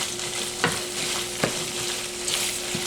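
Ground beef and onions sizzle and crackle steadily in a pan, with a few sharp scrapes from stirring cutting through the frying.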